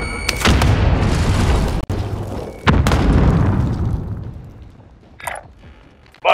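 A frag grenade detonates in Call of Duty Warzone with a loud, close boom and a long rumbling tail, a second heavy blast follows at once, and the roar fades away into near quiet.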